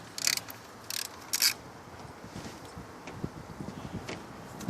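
Wrench ratcheting on a bolt of a 2002–2006 Lexus ES300 during knock sensor replacement, three short bursts of clicking near the start, then quieter faint mechanical ticking and handling noise.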